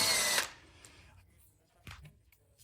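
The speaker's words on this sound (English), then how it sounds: "remove the 8mm Allen bolt" Short, close burst of a power tool spinning out an 8mm Allen bolt from a bike crank arm, cutting off quickly and followed by faint handling clicks and a soft knock.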